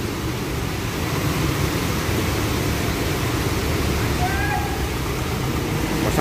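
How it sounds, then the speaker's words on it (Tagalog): Downpour with strong wind caught in the open on a motorcycle trip, a continuous loud roaring wash of noise with a gusty low rumble beneath, steady from start to finish. "Grabe ang lakas, pati hangin."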